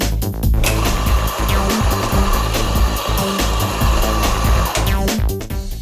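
Loud, steady whirring of an electric espresso burr grinder grinding coffee beans, a dense continuous roar with brief changes at the start and end.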